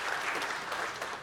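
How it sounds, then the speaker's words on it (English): Audience applause for awards-event sponsors, a dense steady wash of many hands clapping at moderate distance, continuous for about a second without a break. "So what about a round of applause for each and every one of those wonderful sponsors?"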